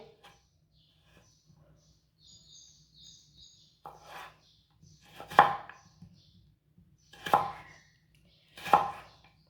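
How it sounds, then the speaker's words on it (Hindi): Knife chopping potatoes into long thin strips on a cutting board, three sharp, separate thuds spaced about two seconds apart, with quiet speech and soft handling noises before them. "अब लंबे लंबे पीसों में काट लेंगे।"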